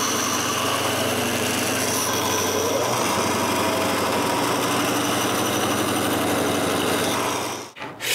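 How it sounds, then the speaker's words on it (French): Band saw cutting notches into the ends of small walnut blocks, a steady loud motor hum with dense buzzing grind throughout, fading out briefly near the end. "Ensuite, à la scie à ruban, je coupe une entaille à chaque bout."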